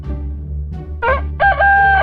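A rooster on a farm crows a loud, close cock-a-doodle-doo, building through a few short rising calls into a longer sustained final note.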